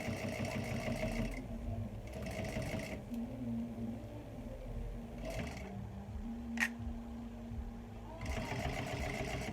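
A Juki sewing machine stitches in several rapid bursts of mechanical whirring, separated by pauses with soft handling noises and a sharp click, heard close and alone.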